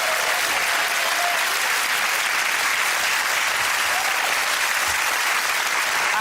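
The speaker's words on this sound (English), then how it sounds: "give that round of applause to Ed, Sarah and Andy." A studio audience at a TV comedy panel show applauds steadily, a dense, even burst of clapping that holds at full strength for several seconds with no voices over it.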